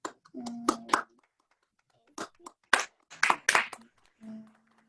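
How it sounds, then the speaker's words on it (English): Scattered clapping from a few people at a virtual scholarship ceremony: short, separate bursts of hands in small groups with quiet gaps between, and a brief voice sounding near the start and end. "So a big round of applause for everyone who received it."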